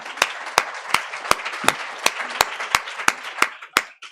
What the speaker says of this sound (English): I'd like to start with another big round of applause